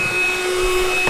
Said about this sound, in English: Because it's not a hoover, it's a vacuum cleaner.